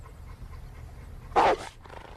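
A single dog bark rings out sharply, loud and close, with a fainter second yelp just after, against quiet background hum.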